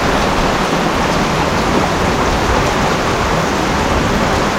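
Heavy rain pours down in a flooding downpour near a riverside hut, a loud, dense, unbroken roar of water with no pauses or voices.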